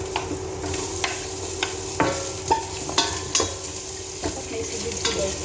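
Chicken skin and carrot are sautéed in a pan with steady sizzling and a series of regular spatula scrapes and knocks, close and clear, with no talking.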